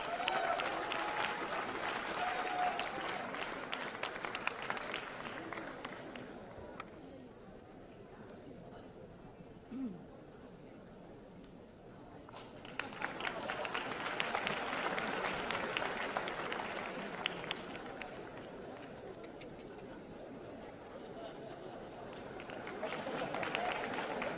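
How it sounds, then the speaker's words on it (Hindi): Loud applause and cheering from a large concert audience, a roaring swell of clapping that dips midway, rises again, then builds once more toward the end, heard at a distance across a big venue. "जोरदार तालियों के साथ"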